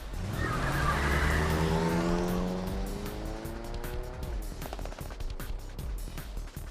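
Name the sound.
taxi engine revving and lurching off, video game 428: Shibuya Scramble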